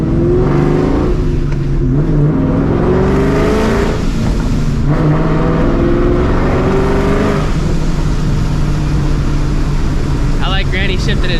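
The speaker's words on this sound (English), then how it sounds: "This car is just loud and ignorant." A supercharged 2004 Mustang GT revs hard and loud, its engine climbing and dropping through quick shifts and echoing off nearby walls, with a voice shouting over it near the end.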